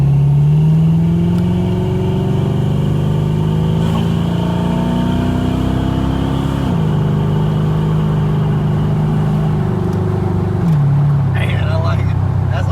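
A Foxbody Mustang with a built AOD transmission using 4R70 internals accelerates, its engine note climbing steadily, then dropping at two shifts. Loud and close, with faint background noise near the end.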